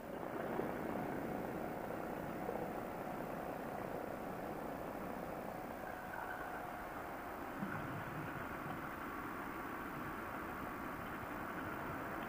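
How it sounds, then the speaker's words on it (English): Small ultralight airplane coming in to land in Florida, its steady propeller engine drone continuous and fairly close throughout, with no talking. "Looks like a small area to land in, but this airplane does just fine coming in there."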